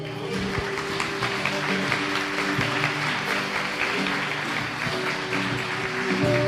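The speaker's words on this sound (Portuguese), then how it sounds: "Você pode aplaudir o Senhor." A church congregation claps steadily and evenly throughout, a dense wash of applause with sustained musical tones underneath.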